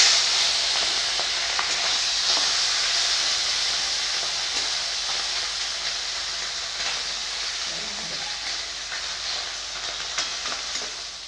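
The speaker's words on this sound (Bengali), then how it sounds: "তেল গরম হয়ে গেছে, মাছগুলো ভেজে নিব।" Kakja sea fish from Digha fry in hot oil in a kadai, a steady, close sizzling hiss with occasional spits and pops that slowly eases in loudness.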